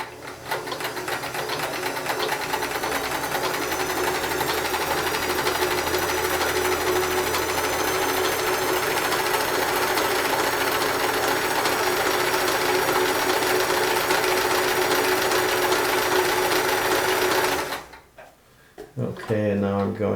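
A Sears Kenmore 158 series free arm sewing machine runs an overcast stitch in one steady, loud, continuous whir with a fine rapid needle rhythm, stopping abruptly near the end before a brief mechanical clatter.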